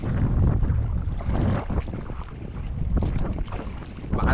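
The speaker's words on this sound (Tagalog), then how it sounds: "Lakas na yung amihan." Strong northeast monsoon wind buffets the microphone over the rumble of a small fishing boat on rough water, loud and gusty throughout.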